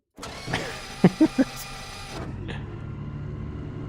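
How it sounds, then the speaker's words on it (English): A race car's starter motor in Automobilista 2, whirring and clicking in a few quick mechanical pulses before the engine settles into a steady low idle. "Nice starter sounds going on."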